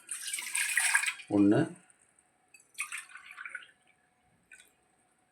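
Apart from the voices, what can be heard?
water poured into a vessel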